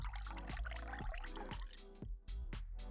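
Soda water poured into a stemmed wine glass for an Aperol Spritz, a close, steady liquid stream with bubbly trickling and drips.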